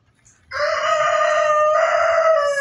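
A rooster kept on a small home farm crows once, loud and close, a long sustained call that starts after a brief quiet moment and runs steadily to the end with no talk over it.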